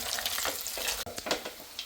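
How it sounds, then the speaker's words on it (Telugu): Eggs frying in oil in a pan, a short burst of close, continuous sizzling with a few sharp crackles and a stirring scrape midway. "ఆయిల్లో ఇలా ఫ్రై చేసుకోవాలి ఫ్రెండ్స్ చక్కగా"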